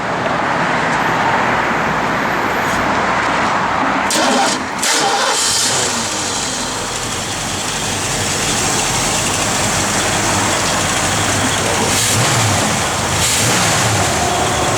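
A 1969 Ford Mustang Mach 1 with a 351 V8 cranks and fires up close by, then settles into a loud, rough, rumbling idle that holds steady to the end.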